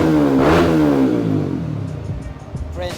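A Honda WinnerX motorcycle fitted with a Villain exhaust revs hard, its engine note climbing sharply near the start and then settling into a rough, loud idle burble.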